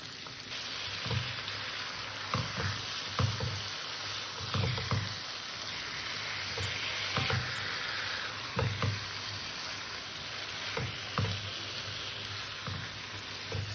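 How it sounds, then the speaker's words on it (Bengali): Fish cooking in a thick spice masala in a pan, a steady sizzle broken by regular scraping and thudding stirring strokes, close up with no talking. "এইভাবে নেড়ে চেড়ে মাছটাকে আমি রান্না করে নেব"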